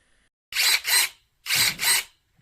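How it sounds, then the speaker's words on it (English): Cordless electric pruning shears cut through a branch in two bursts, each a pair of short whirring motor pulses separated by a brief silence, close and fairly loud. "This is a new trimmer. Has a nice slow steady cut."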